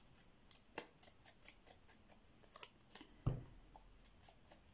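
Scissors snipping through the stems of a flower bouquet, a series of quiet, crisp individual cuts spaced irregularly, close and faint, ending with a heavier thump.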